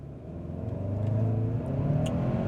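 A 2025 Hyundai Santa Cruz XRT with a turbocharged engine pulls hard during a timed acceleration run, its engine note rising steadily and droning loudly from inside the cab, with no talk.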